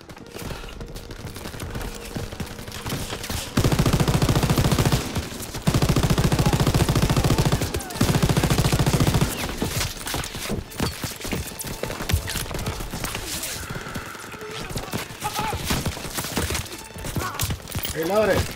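Machine-gun fire in Call of Duty: WWII, loud sustained automatic bursts dominating the middle stretch, followed by scattered shots, clatter and other battle noise, with voices faintly mixed in.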